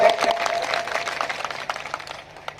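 An audience at an Urdu mushaira poetry recital claps loudly, a dense, sustained wash of applause that eases slightly toward the end.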